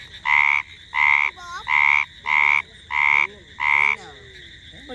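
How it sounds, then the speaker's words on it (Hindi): A frog croaks in six loud, evenly spaced bursts, throat puffing far beyond its body size, heard up close outside a house with no other sounds. "देखो उसको पूरा मेंढक अरे बाप रे ये क्या चीज है इसकी साइज से ज्यादा तो फूल रही है।"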